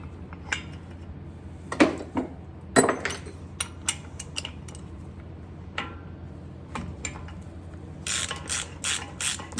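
A ratchet on a 2 3/4 inch socket works the front axle nut of a 1996 Ford F-350, giving close, sharp bursts of clicking with brief pauses between strokes and a faster run of ticks at the end.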